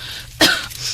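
A woman bursts into a single loud cough while cooking at a traditional clay stove, a sharp broadband burst in the middle of quiet room tone.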